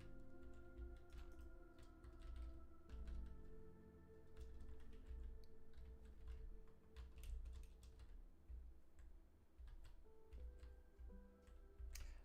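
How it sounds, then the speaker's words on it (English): Computer keyboard keys clatter in quick irregular bursts close to the microphone throughout, under a low hum of background game music with no talk. "You can probably like hear my keyboard and stuff"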